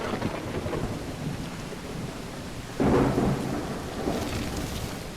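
Heavy rain pours steadily while a sharp rumble of thunder breaks in midway, loud and close, in the video game Call of the Elder Gods.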